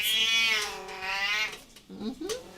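A cat gives a loud, drawn-out meow close to the microphone, followed by a shorter rising meow a moment later.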